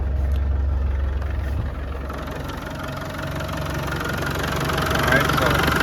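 Diesel engine of a 1996 Land Rover Defender 110 with a 300Tdi unit idling, a steady low rumble with faint ticking clatter, close and continuous, after a brief startup change early on.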